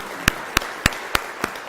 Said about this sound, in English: So can we all give her a round of applause to thank her?